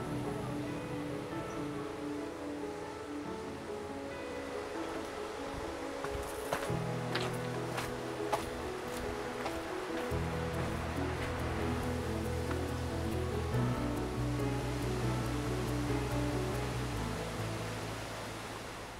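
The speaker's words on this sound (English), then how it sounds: "following the river and listening to the sound of it is just so soothing" A river runs through Taroko Gorge in Hualien, its crystal clear blue water filling a narrowing canyon. It makes a steady, fairly loud rushing wash without a break, with low tonal music held underneath.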